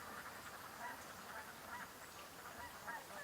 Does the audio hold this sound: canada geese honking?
yes